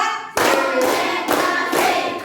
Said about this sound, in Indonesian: kita lakukan tepuk siap belajar terlebih dahulu